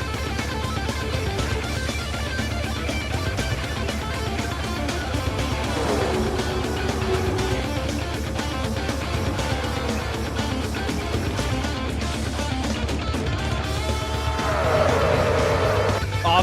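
Race cars in the 2020 FBRL Sony Cup Series round at Homestead, a steady loud engine drone throughout with rising and falling pitch sweeps as cars pass, and a brighter surge near the end.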